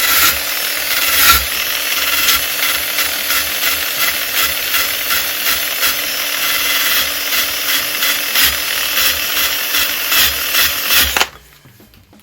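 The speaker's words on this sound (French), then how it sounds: "Et on remet un petit coup de brosse." A brush scrubs the surface of an old broken wooden plane to clear burrs, a continuous close scratchy rasping with quick rhythmic strokes that stops abruptly near the end.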